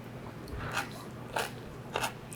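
Three sharp, crisp crunches spaced about half a second apart as someone bites into copper pennies, a chilled side dish of marinated sliced carrots, heard close up with no talking.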